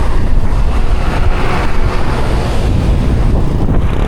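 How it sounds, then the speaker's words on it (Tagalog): Loud, constant wind roars and buffets the microphone while riding a motorcycle, a dense rushing noise with no pauses and no voices. "Ang hirap magmotor, napakahangin."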